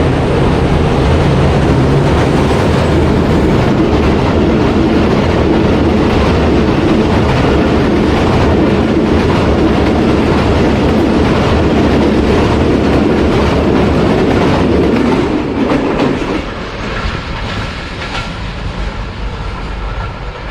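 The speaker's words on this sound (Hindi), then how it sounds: "तो अभी आपको क्रॉसिंग दिखाते हैं अलेक्जेंड्रा ब्रिज से पाकिस्तान एक्सप्रेस की।" The Pakistan Express thunders across the Alexandra Bridge over the Chenab River in a loud, continuous roar of wheels and clattering rail joints close at hand, easing slightly toward the end as the carriages pass.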